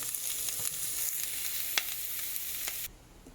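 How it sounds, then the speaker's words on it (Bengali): Oil sizzling in a pan as coriander leaves fry, a dense crackling hiss with occasional pops and stirring scrapes, close and steady until it cuts off abruptly near the end. "আর এগুলো ভেজে নিচ্ছি তারপর মশলাটা কষিয়ে তারপরে রান্নাটা করবো"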